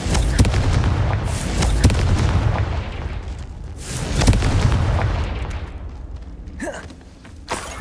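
Confringo fire-blast spell in Hogwarts Legacy, a series of loud, close booming explosions with sharp bursts and rumbling tails across the whole stretch, alone with no talking.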